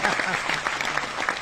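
Audience clapping at an Enagic India Kangen Water business presentation, a brief burst of moderately loud applause from a crowd, steady through its short length.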